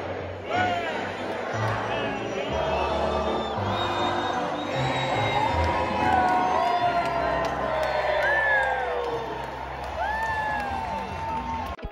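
A baseball crowd at Petco Park cheers and sings, with whoops, shouts and whistling voices layered over a constant loud roar of the stands and nearby chatter.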